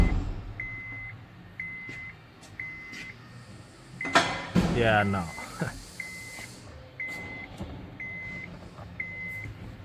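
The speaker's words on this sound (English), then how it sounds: "It's beeping." A 2007 Honda Odyssey dashboard chime beeps in evenly spaced pairs, repeating steadily while a person briefly speaks and some engine or handling noise passes midway.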